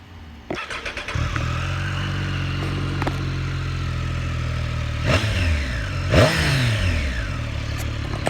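A 2018 Triumph Street Triple R motorcycle engine cranks and fires up, settles into a steady idle, then gets two sharp throttle blips near the end, close and loud with no talking.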